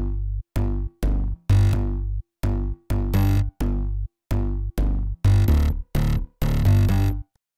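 Layered EDM bass line with sub bass in a future bounce style, punchy separate notes pulsing in a bouncy, uneven rhythm with short gaps between hits, loud and upfront with no voices.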